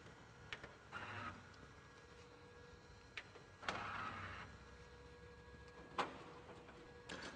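An Epson SureColor S-series printer runs its cleaning cycle. Faint, intermittent mechanical whirs come in short bursts with sharp clicks in between, in a quiet room.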